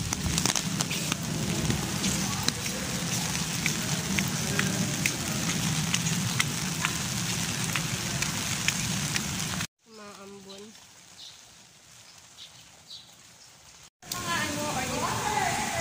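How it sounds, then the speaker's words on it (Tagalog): Steady rain patters and hisses on a surface, close and continuous, with a brief quieter stretch where faint voices are heard. "kahit umuulan"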